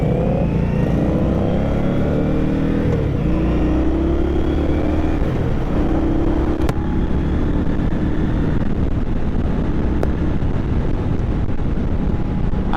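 A 2023 Indian Scout motorcycle accelerating, its engine note rising steadily under heavy wind rush across the microphone, loud and continuous with no talk.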